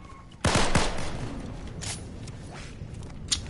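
Gunfire in Fortnite: a loud, sharp burst of shots hits suddenly near the start and then echoes away, followed by quieter scattered pops and a faint later crack.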